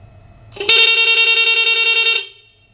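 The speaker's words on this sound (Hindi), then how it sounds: "अब जैसे हम बटन प्रेस करेंगे हमारा जो हॉर्न है वो चलेगा काट काट के" A loud electric horn on a modified Honda CD 70 motorcycle blares continuously for about a second and a half, pulsing rapidly in a steady on-off rhythm, then cuts out.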